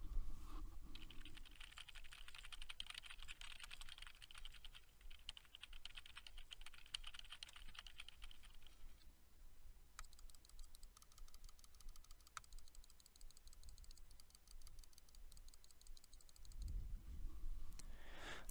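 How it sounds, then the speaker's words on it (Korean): A computer keyboard clatters with steady, close typing, and mouse buttons click crisply through a quiet room, continuous for the whole stretch with short breaks between bursts. "키보드와 마우스 버튼을 눌러 보도록 하겠습니다."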